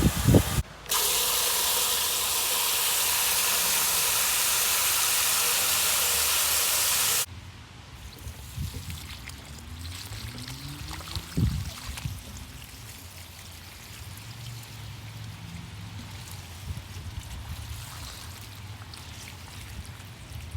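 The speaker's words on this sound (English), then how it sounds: "then we'll fill the watering can up to the top with water" Water gushes loudly into a garden watering can for several seconds as it is filled to make a diluted comfrey plant feed, then cuts off, leaving quiet rustling and faint background sounds.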